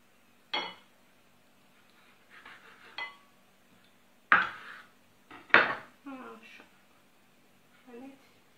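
A knife slices through filled crepes, rolled pancakes stuffed with spinach, pastrami and melted cheese and held with toothpicks, cutting them in the middle. Several short, separate cuts and light clinks on a plate come close and fairly quiet, with pauses between.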